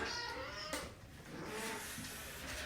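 Several cats, including a Persian and mixed-breed house cats, meow indoors in a short, moderately loud burst with a continuous household hum underneath; no one talks.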